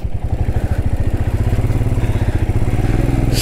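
A Royal Enfield Himalayan motorcycle thuds through deep water off-road, its engine chugging in a fast, steady pulse, close and loud, with sloshing clatter and no talk.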